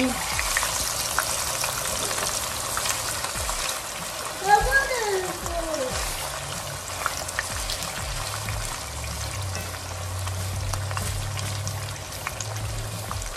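Pork chops fry in a pan with a steady hiss and crackle, close by, while someone talks briefly and a utensil clinks once.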